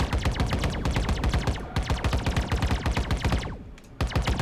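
A spaceship fires its weapons in the space game Constellation, rapid rattling bursts of shots in quick succession, loud and close, with a brief pause near the end before another burst.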